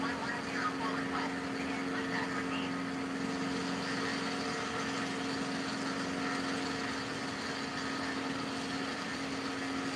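A steady aircraft engine drone hums evenly while the plane taxis in Microsoft Flight Simulator 2020. The tone is constant and moderately loud throughout, with no talking.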